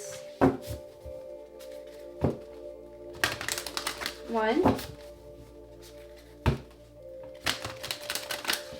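Tarot cards being shuffled by hand: several short papery bursts and taps a couple of seconds apart, close by, mixed with a voice talking between them.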